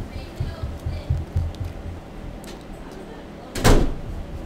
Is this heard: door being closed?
yes